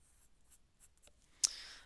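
Graphite pencil sketching on paper for a hand-cut botanical leaf stencil and mandala design in a studio, with soft intermittent scratchy strokes followed by a sharper, louder scrape near the end.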